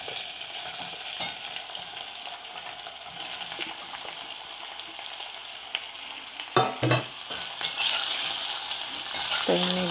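Potatoes sizzle in a hot pan, a steady broad frying hiss with scattered crackles and a few louder clattering stirs near the end.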